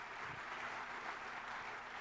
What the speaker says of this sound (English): So quick round of applause for Michael.